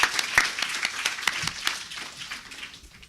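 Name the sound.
audience applause for a panel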